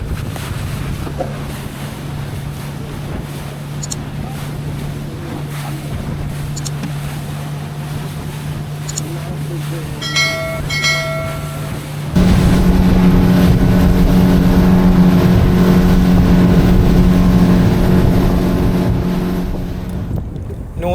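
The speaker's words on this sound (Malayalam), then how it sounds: "ഇപ്പോൾ ഫിഷിംഗ് സ്പോട്ട് ലക്ഷ്യമായിട്ടുള്ള യാത്രയിലാണ് നമ്മുടെ ബോട്ട്" A fishing boat travels across the open sea, its engine a steady droning hum with wind rushing past. Partway through, the engine note jumps to a louder, harsher throb that carries on to the end.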